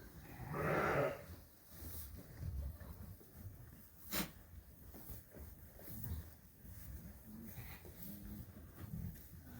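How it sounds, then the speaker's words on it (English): Sheep on a farm during lambing season bleat loudly once near the start, followed by quieter intermittent animal sounds and rustling in a barn-like space. "We have 2 sheep coming in."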